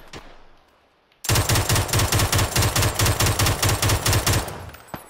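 Rapid automatic gunfire in the battle royale shooter PUBG, a loud sustained burst of evenly spaced shots lasting about three seconds after a quiet start, then fading out.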